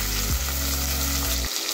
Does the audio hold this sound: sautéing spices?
yes